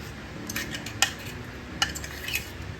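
Chana dal chutney is spooned from a container into a bowl, giving a few light, sharp metal clinks and scrapes of a spoon against dishes, close and fairly quiet, with no talking.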